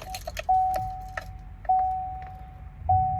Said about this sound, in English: We'll do a quick key cycle here